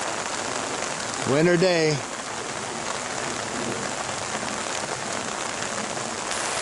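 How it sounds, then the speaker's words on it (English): Rain falling on a rain garden on a bluff above a bay at the Captain Avery Museum, a dense steady hiss throughout, with a person speaking briefly near the start. "You can see how the rain is coming in and collecting here and pooling"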